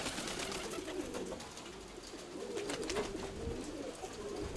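Pigeons cooing softly in repeated throaty phrases over a breezy outdoor hiss on a hot, windy day, faint and somewhat distant.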